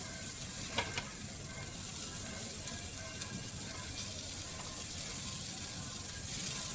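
Mushrooms and green chillies frying in a pan for a mushroom tomato curry, giving a steady, even sizzle with a couple of faint utensil taps and no talking.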